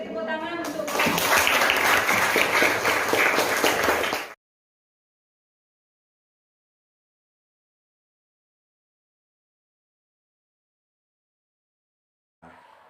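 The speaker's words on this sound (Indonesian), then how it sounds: "Beri tepuk tangan untuk." A classroom of students claps and cheers together for about four seconds, a dense burst of applause that stops abruptly, followed by long silence and a faint sound near the end.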